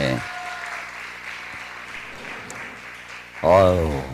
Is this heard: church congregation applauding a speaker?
yes